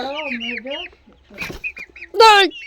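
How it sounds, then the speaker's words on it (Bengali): A chicken clucks and squawks up close in a series of short, throaty calls, ending in a louder, sharper cry. "অবস্থা আমার মুরগি।"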